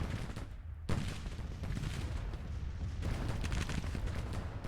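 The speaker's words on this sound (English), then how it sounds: "We have all this nice artillery here, and it's just pounding into the sunken road." Artillery from Civil War cannons pounds a sunken road in Grand Tactician: The Civil War at the Battle of Antietam, a constant distant rumble of overlapping booms and gunfire heard as a low, steady roar.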